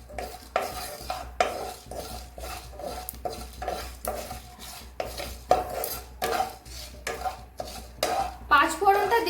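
Five-spice seeds (panch phoron) dry-roast in a pan with no oil: a spatula scrapes the pan in quick, regular, close strokes roughly every half second, over a faint dry crackle.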